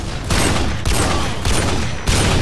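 Harrier airstrike gunfire in Modern Warfare 2, a loud, continuous barrage of rapid shots and blasts with several surging bursts over a couple of seconds, no talking.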